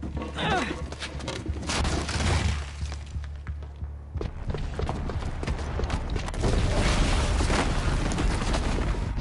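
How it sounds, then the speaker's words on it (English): Booby-trapped bomb going off in Horizon Zero Dawn, a loud explosive burst with crashing debris and rumbling blasts spread across the scene, chaotic and close. "the booby trap on the bomb downstairs is gonna get set off"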